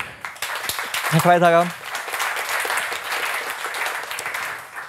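Audience applause at an Austrian Federal Forests nature-management forum, a steady broadband patter of many hands running through the clip, with a voice speaking briefly over it near the start.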